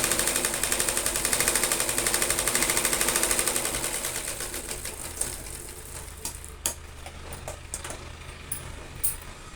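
A domestic sewing machine runs a steady rapid stitch along the lining side of a garment's back neckline, its even mechanical chatter fading after a few seconds into quieter handling clicks and taps.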